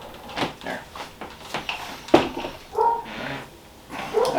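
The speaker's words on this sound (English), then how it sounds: "Obligatory barking while we're doing videos." A dog barks and yips in short bursts, some higher whining notes mixed in, fairly close by with no talking.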